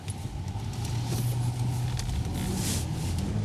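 A car engine idles steadily with a low, constant hum, close by and continuous throughout.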